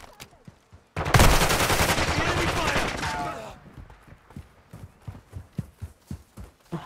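A loud burst of rapid automatic gunfire comes from a Call of Duty: Modern Warfare II match and lasts a couple of seconds. Sharp, evenly spaced footstep-like thuds and quieter game sounds follow it.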